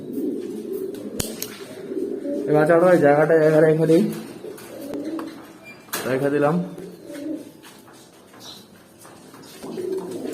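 Young adult pigeons coo in low, repeated bursts close by, two clearer coos standing out while someone talks over and between them.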